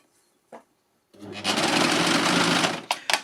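A Lucie overlocker stitches through a piece of fabric in one steady, loud burst of about a second and a half, preceded by a brief click and followed by a couple of short bursts as it trims off.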